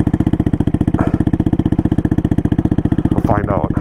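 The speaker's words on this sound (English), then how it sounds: "I'm gonna take the velocity stack off just to see if it gets any louder turbo noises." A turbocharged Honda Grom motorcycle with a swapped-in CBR engine runs close by with a steady, rapid, even thumping pulse, and a voice briefly cuts in near the end.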